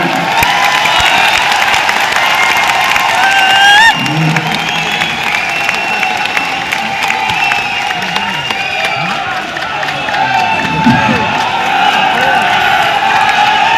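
A large crowd at a business silver jubilee event in Tyagraj stadium claps and cheers loudly and continuously, with whoops and shouts rising through the dense roar.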